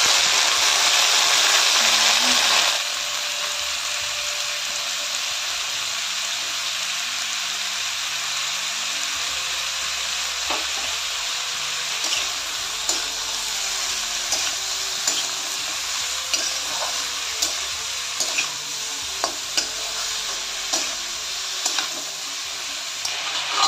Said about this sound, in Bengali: এই যে দেখো ডালের ফোড়ন দেওয়া আমার হয়ে গেছে